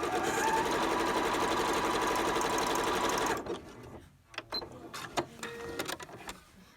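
A Janome sewing machine (3160/4300 model) runs in a steady, close whir for about three seconds, then stops, leaving faint clicks and handling noises.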